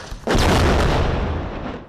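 Heavy bombardment explosion in Gaza near a hotel used by aid workers and media, a single loud close boom that hits sharply and rumbles away over about two seconds.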